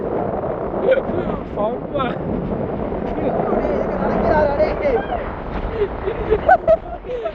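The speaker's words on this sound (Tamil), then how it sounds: "காத்து வந்து சரியா சத்தமா கிடக்கு காத்து." Strong wind roars steadily across a rough sea coast in Jaffna, a constant close rushing noise with gusts, while people talk throughout.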